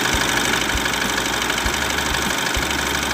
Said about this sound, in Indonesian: tunggu stasioner sampai solarnya habis ya teman-teman ya